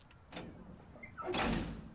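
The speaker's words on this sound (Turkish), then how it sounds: "Kapıyı kapattık." A door swings and closes in the video game Mafia, a short scrape followed by a heavier thudding shut, moderately quiet and close, with no voices over it.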